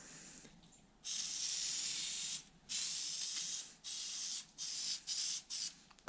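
Oil is sprayed onto the air filter of a 1976 Suzuki GT750 motorcycle in several close, loud hissing bursts of uneven length, separated by brief silences, with no talk.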